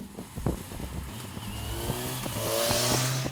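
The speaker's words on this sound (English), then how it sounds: "Since this is a 4-cylinder engine, everybody loves how 4-cylinders sound." A Kawasaki Versys 1100 four-cylinder motorcycle engine starts up and idles, sharp crank pulses giving way to a rising, steady hum with tonal whine, moderately faint and close.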